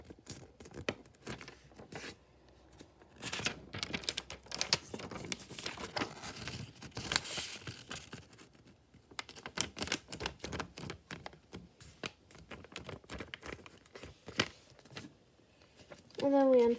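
Sheet of origami paper being folded in half for a heart box, with close, irregular crinkling and soft creasing taps over a long stretch while someone talks quietly.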